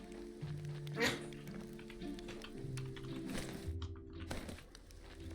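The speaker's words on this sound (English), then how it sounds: "Oh, that was my dog." A dog barks briefly in the background of a gaming session, a sharp burst near the start over steady talk, keyboard typing and game sounds.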